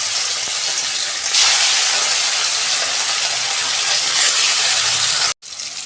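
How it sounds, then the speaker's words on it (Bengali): Katla fish pieces fry in hot oil in a karahi, making a loud, steady, close-up hiss that swells partway through and then cuts off abruptly near the end. "তেল গরম হয়ে গেছে, আমি মাছগুলো একটা একটা করে ভেজে নেব"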